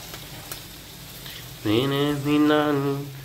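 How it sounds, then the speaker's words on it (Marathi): Tempering (phodni) for tomato chutney in a home kitchen: after a quiet start, a sudden loud sizzle as spices hit hot oil, hissing and crackling close by with a bright, sustained frying sound. "इकडे टमाट्याच्या चटणीला रियानं दिली आता फोडणी"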